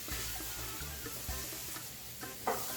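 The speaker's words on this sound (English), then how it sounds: "we're just gonna go ahead and brown that in with the onions" Ground beef browning with onions in a pan, a steady broadband sizzle with occasional scraping stirs, moderately close and without talk.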